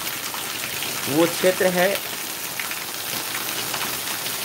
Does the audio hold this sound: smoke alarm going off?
no